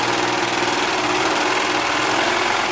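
A serger sewing machine runs at a steady high speed, a dense continuous mechanical whir with a fast rhythmic hum and no pauses, close and moderately loud.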